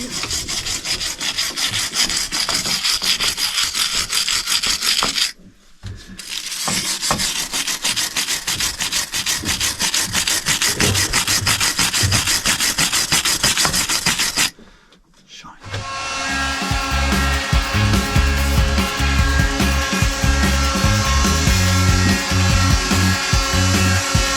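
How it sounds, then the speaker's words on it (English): A scraper grinds paint off a Lister engine's air filter aboard a sailing vessel, producing loud, rapid, rasping strokes that run continuously with two brief pauses, followed by harsher scraping against a humming tonal background. "I'm scraping paint off the air filter."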